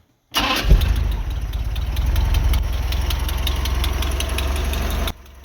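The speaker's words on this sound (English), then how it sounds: "And there the engine is inside the boat," A 1988 Bayliner Capri boat's 3.0 liter engine starts abruptly and settles into a steady, loud idle with a rapid mechanical ticking throughout, running close by for about five seconds before cutting off.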